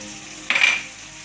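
Vegetables frying in a pan with turmeric for a traditional Indian puri curry give a short burst of hissing sizzle with a faint clink of a utensil, close by and without speech.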